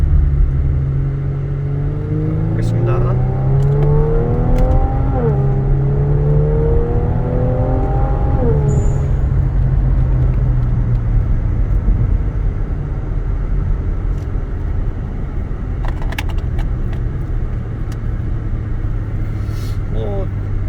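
A Kia Stinger 3.3 with a titanium variable-valve exhaust revs up steadily under acceleration, its pitch climbing in repeated rises, while someone talks over the constant rumble.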